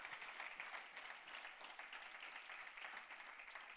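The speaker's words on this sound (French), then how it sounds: "Applaudis le Seigneur, applaudis pour les pères." Congregation at a Sunday church service applauding for fathers on Father's Day, a steady, even wash of many hands clapping, somewhat distant and soft.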